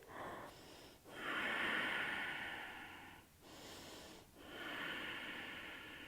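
Slow, deep breaths are drawn in a quiet room during a yoga forward fold, with three long, airy inhale-exhale cycles separated by short pauses, close and soft, with no talking.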